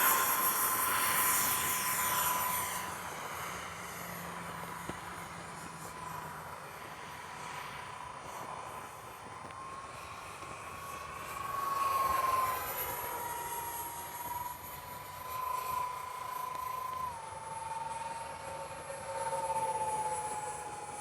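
X-Fly SU-57 radio-controlled jet model flying overhead, a steady high turbine whine with shifting pitch as it passes near and far, swelling louder in bursts, with no talk.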